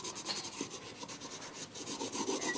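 Soft, close rubbing strokes as a Xerox transfer is burnished onto an encaustic wax surface, quiet repeated scraping with a light rasping texture.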